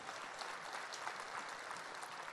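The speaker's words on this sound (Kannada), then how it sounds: "ಅವ್ರಿಗೋಸ್ಕರ ಒಂದು ಚಪ್ಪಾಳೆ ಹೊಡಿಬೇಕು ಅನ್ನಿಸ್ಲಿಲ್ವಾ?" An audience at a school annual day applauds, a dense, even clatter of many hands clapping together that holds steady without voices on top.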